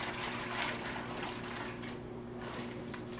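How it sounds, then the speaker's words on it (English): Hands slosh and toss water around in a filled container while rinsing acorns, a steady close splashing and churning with a low background hum and no talking. "So you just stick your hands in and then move that water and stuff around, toss it around as much as you can"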